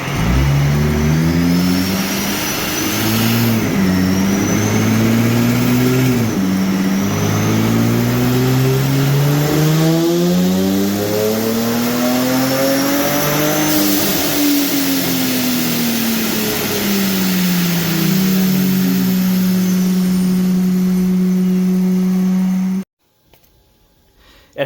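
A K-swapped all-wheel-drive car on a dyno revs hard through a power pull, engine pitch climbing and dropping in repeated sweeps with a high whine above, holding a steady drone before cutting off abruptly.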